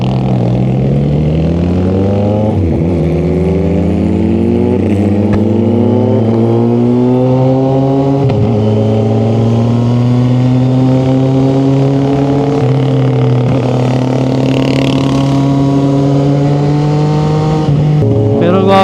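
A 2025 CFMOTO 675NK motorcycle engine pulls hard while riding, climbing through the gears in repeated rising sweeps with brief shift breaks, loud and close throughout, with no talking.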